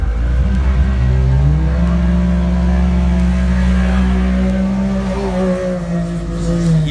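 UTV race cars, a 4-seat Can-Am and an RS1, revving hard at an off-road desert race, a loud sustained engine roar with rising and falling pitch as they accelerate off the line, close and continuous.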